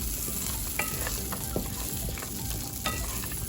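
Almonds toasting in butter in a pan for a chicken and zucchini stir fry, giving a steady soft sizzle with occasional light stirring clicks and scrapes, alone with no talk.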